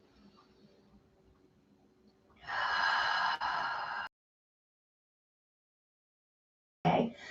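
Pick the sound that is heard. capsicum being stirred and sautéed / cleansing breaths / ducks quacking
cleansing breaths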